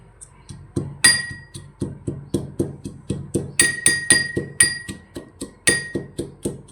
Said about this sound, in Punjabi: ਇਹਨਾਂ ਦਾ ਆਪਾਂ ਮਸਾਲਾ ਤਿਆਰ ਕਰ ਲਾਂਗੇ ਜੀ ਕੁੱਟ ਕੇ